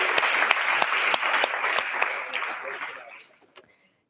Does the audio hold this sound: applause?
yes